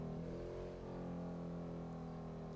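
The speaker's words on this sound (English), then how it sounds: "Do you guys like the engine sound on this?" A car engine idles in GTA V with the LSPDFR police mod, a steady, even low rumble with a smooth, unbroken tone throughout and no talking.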